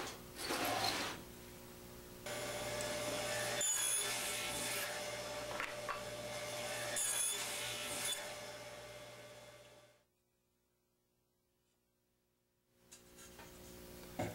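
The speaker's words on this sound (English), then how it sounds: "I'll do that here at the crosscut sled with the stop block in place and make that shell cut on both faces" A table saw with a crosscut sled and stop block cuts a tenon shoulder in wood for an Arts and Crafts panel bed, the motor droning steadily close by with cutting noise, then briefly dropping away before spinning again.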